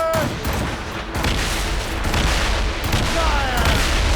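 Ship cannons in Assassin's Creed Rogue fire in a heavy naval volley: loud, overlapping booms and rumbling blasts fill the whole stretch, with faint shouted voices mixed in.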